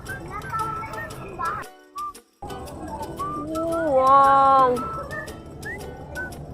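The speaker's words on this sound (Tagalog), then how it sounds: "Ibon." Bird calls and whistled notes sound close by in an outdoor spot in Intramuros, with a rising, wavering whistle near the end; a voice exclaims briefly and talk is heard around it.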